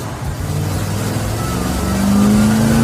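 A Cougar's V8 engine revs hard and climbs steadily in pitch toward 5,000 RPM, loud and close, a throaty roar building toward high RPM.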